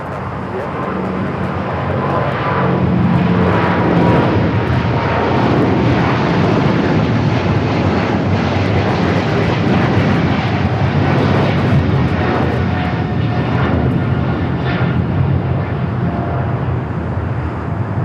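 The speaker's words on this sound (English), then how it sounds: "Austrian taking off here." An Austrian Airlines jet takes off at LAX, a loud, sustained engine roar that fills the whole stretch without pause, with faint radio chatter and talk mixed under it.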